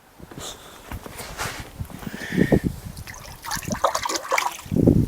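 Water sloshing and splashing as a hand is dipped into a lake on a rainy day, a few close, irregular bursts of slosh and trickle with brief pauses between them, heard with no talk.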